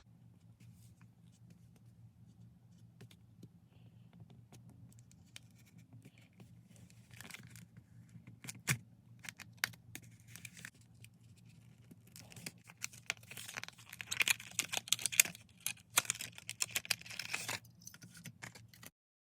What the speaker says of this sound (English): I'm going to cut the blister pack so I don't have to rip the card